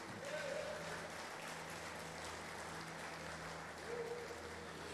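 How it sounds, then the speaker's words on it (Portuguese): A church congregation applauds during a Thursday worship service, giving moderate, steady clapping that carries on throughout, fairly distant and roomy. "Você pode aplaudir o Senhor por isso?"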